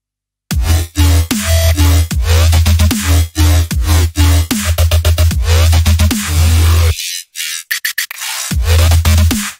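A deep dubstep sub bass throbs beneath a hard kick and sharp snare in a sparse, loud beat, briefly dropping out near the end.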